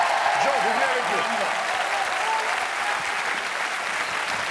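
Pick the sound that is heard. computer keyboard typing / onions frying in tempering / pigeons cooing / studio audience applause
studio audience applause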